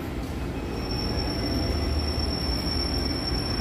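An electric KRL commuter train near Padalarang station on the Bandung line, rolling steadily past on its rails with loud, continuous rumble and a sustained high metallic wheel squeal throughout.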